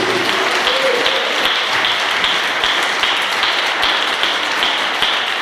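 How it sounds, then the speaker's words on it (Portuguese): Congregation applauding in a church service, a dense, steady wash of many hands clapping close and loud, sustained throughout with no speech over it. "Então aplauda Ele em nome de Jesus"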